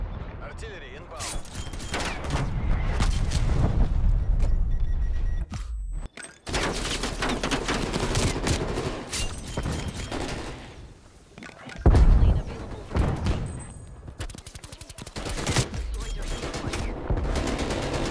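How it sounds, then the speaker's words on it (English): An artillery strike pounds down in Call of Duty Black Ops Cold War: loud, dense bursts of gunfire and heavy booms roll almost continuously, with a brief lull and voices mixed in. "Hostile artillery targeting active."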